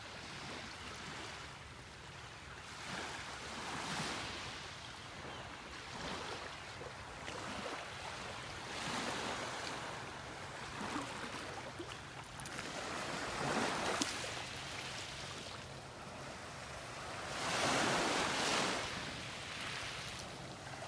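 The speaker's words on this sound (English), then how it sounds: "Sounds like there's a few little waves rippling along the shore." Small waves rippling along a beach shore in North Naples, Florida, one morning: gentle, hushing washes that swell and fade every few seconds, soft and moderately close, with breezy background noise.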